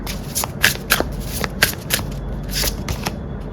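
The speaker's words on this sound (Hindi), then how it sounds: "I will also pull few cards from the tarot deck." Tarot cards being shuffled by hand, a series of crisp riffling bursts at an irregular rhythm, close and clear with no talk.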